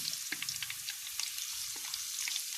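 Food deep-frying in hot oil until golden and crisp gives a faint, steady sizzle scattered with small crackles and pops, with no voices.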